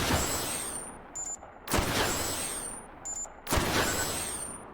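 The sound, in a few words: battery warning beep of a weapon in H3VR video game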